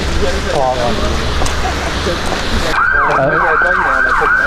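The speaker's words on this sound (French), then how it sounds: "il y a des ambulances qui sont là-bas." Loud ambulance siren wailing in a rising and falling cycle, starting partway through after a stretch of busy voices and crowd noise.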